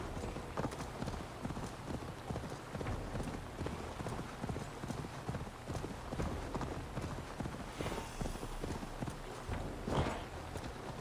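Steady horse hooves clip-clop in a continuous walking rhythm over a busy Assassin's Creed Valhalla game soundscape, with a brief rustle of noise partway through.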